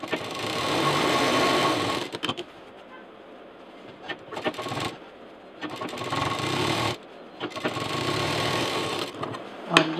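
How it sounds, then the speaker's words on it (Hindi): A sewing machine stitches piping onto a toaster cover in bursts of steady close whirring, broken by short pauses between seams, with no talk. "पाइपिंग डाल करके ही हमें इसको सिलना है।"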